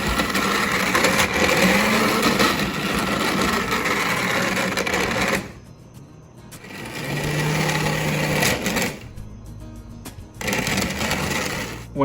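A postwar Lionel No. 60 Rapid Transit toy trolley running roughly on its track makes a loud, buzzing mechanical whir with a rattling edge. It cuts out twice into short near-silences before starting up again.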